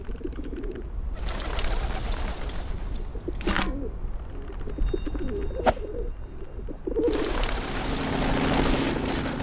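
Pigeons coo repeatedly in the video game Whateverland, soft throaty calls rising and falling over a steady ambient background, with a few sharper bird sounds in between.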